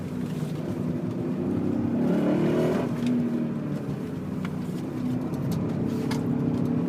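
A 2001 BMW E39 M5 engine revs steadily under load through tight turns, rising and easing as it accelerates, with a continuous close-up drone throughout.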